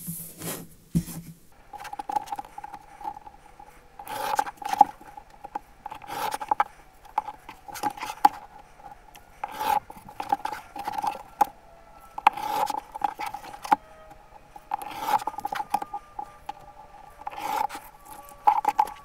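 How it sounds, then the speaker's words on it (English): A rotary cutter slices fabric strips against a ruler, making a series of short scraping, rasping strokes that come in irregular bursts over a quiet background. "So here I am with my old trusty rotary cutter and ruler."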